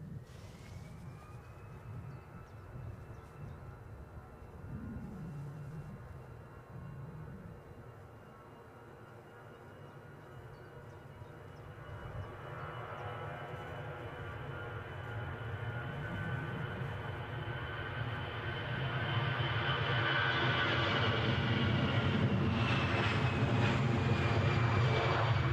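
British Airways airliners taxi out and depart at Edinburgh Airport: a steady jet engine rumble builds gradually, with a rising whine layered on top as the engines spool up, growing loud and close toward the end.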